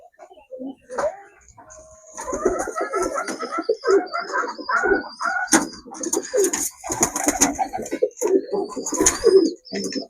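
Many white pigeons, a flock with young birds, coo and call in an overlapping chorus with chirps, close and fairly loud, while someone talks now and then.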